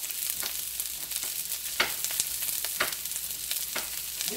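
Cabbage and onion sauté in a skillet with a continuous bright hiss, punctuated by a few scraping stirs, close and moderately quiet with no voices.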